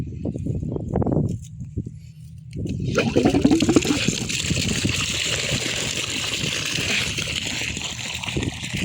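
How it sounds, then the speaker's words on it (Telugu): Irrigation water flows into channels in a farm field, starting as a quieter rush and swelling into a steady, close, broadband gush of running water after a few seconds. "నీళ్ళైతే తిప్పేసాయి మామ, నీళ్ళైతే వస్తున్నాయి."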